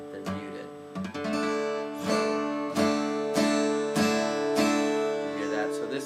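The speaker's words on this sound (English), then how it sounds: "all 6 strings with me muting the 5th and 6th." An acoustic guitar is strummed across all six strings with the 5th and 6th strings muted, several bright rhythmic strums ringing out moderately loud with chord tones sustaining between them.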